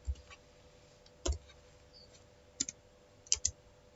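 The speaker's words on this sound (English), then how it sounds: "so let me just click New York" Computer mouse clicks on a desk while a time zone is being chosen: several short, sharp, quiet clicks spaced irregularly over a faint steady hum.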